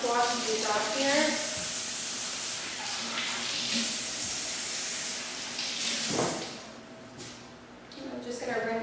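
Vegetables being rinsed under a running kitchen tap give a steady hiss of spraying water, loud and close, with a brief surge near the end and a voice talking over it.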